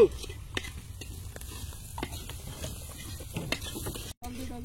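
Chicken with turmeric and chilli powder frying in a pan, a steady sizzle with repeated scraping stirs and clicks of the utensil against the pan, close and continuous until a brief cut near the end.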